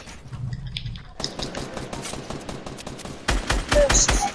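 Minigun fire in the video game Fortnite: a long, rapid stream of shots that grows louder and heavier toward the end, with quieter game sounds at the start.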